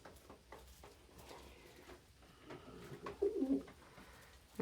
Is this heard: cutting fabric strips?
no